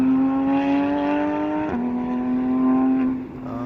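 A race car engine drones loudly at a steady high pitch at a track day at Laguna Seca, dips briefly with a sharp exhaust backfire pop partway through, then carries on before fading slightly.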